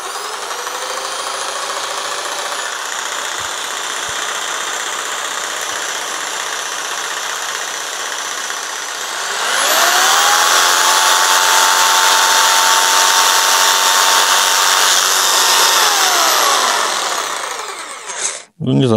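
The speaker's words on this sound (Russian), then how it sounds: "И также у лобзика имеется регулировка оборотов. 6 положений." A Bojet electric jigsaw with six-position speed control runs in steady bursts, its motor whine climbing in pitch as it spins up and holding a loud, constant buzz before winding down; no talk over it.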